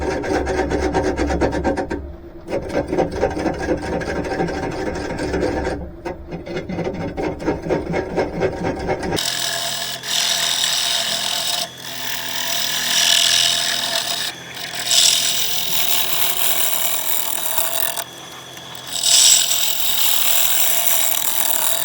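A woodturning tool scrapes and rasps against the bark of a log spinning on a lathe, with a buzzing chatter that stops after about nine seconds, then lighter, intermittent scraping and rubbing follows.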